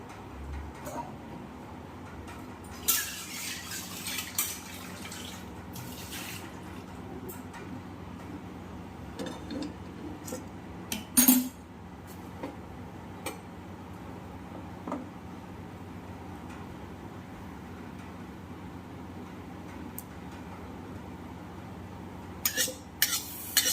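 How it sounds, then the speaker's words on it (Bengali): A kadai wok being rinsed and washed in a home kitchen, with faint clinks of metal and utensils over a steady low background and a louder clatter near the middle. "কড়াইটা একটু ধুয়ে নেবো"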